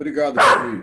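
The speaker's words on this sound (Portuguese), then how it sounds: "tem até o cachorro protestando aqui" A dog gives a short, close bark that overlaps someone speaking.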